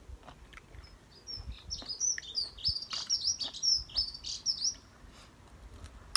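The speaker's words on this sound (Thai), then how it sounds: "นกตัวเล็กๆอ่ะมันร้องจิ๊บจิ๊บจิ๊บจิ๊บของมันเนี่ย" Small birds chirp in quick, high repeated tweets at moderate distance, outdoors, over a soft background hiss. No talking.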